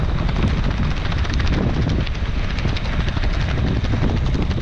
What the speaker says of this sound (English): My jacket's loose. It's flopping.